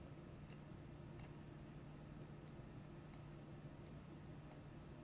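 A computer mouse clicks six times, sharp and faint, spaced irregularly over a quiet background hum.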